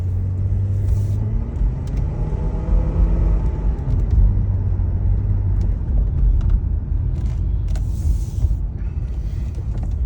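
A Cadillac XLR rolls along a road with a steady low rumble and creaking, with scattered knocks and clunks from the suspension over several seconds, loud and close inside the car.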